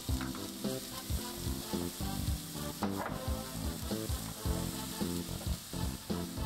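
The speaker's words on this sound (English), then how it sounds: "Stir fry the onion until translucent." Onion stir-fried in olive oil in a pan, a continuous bright sizzle with frequent scraping and stirring clatter, close and steady throughout.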